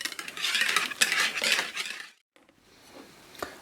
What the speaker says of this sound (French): on commence sur le bord et on mélange